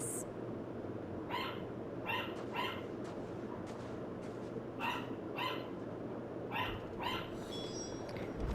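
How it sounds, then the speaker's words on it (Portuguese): A dog barks in the background of a Final Fantasy XVI scene, roughly ten short barks in loose pairs and singles spread across the stretch, fairly distant over a steady ambient bed. "esse episódio vai ter cachorro latindo no fundo"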